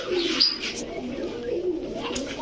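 Giribaz, coloured and racer pigeons coo softly in a low, rolling murmur, with a few brief chirps over the steady cooing; the birds sound close and moderately loud.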